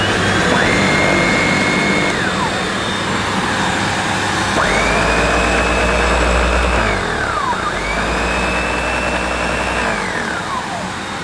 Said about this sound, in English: Hang on a minute, let's turn it back on.